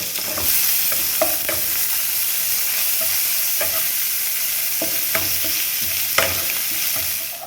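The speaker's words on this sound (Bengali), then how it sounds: "এবার এটাকে ভাজা হবে, পেঁয়াজটা একটু গোল্ডেন ব্রাউন করে ভাজবো" Chopped onion fries in hot oil with a dense, steady sizzle, while occasional soft scrapes of a stirring spoon sound faintly over it.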